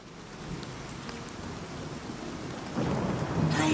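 Steady rain on a stormy night in a video game, a broad hiss with low thunder rumbling beneath it that swells louder near the end, no voices over it.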